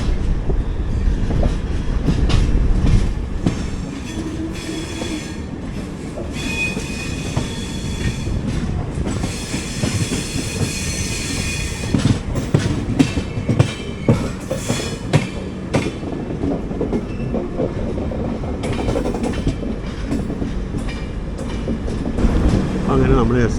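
The Garib Rath Express rolls into Kozhikode station, with a loud, continuous rumble of coaches, rhythmic clickety-clack over the points and brief wheel squeals, close and steady throughout.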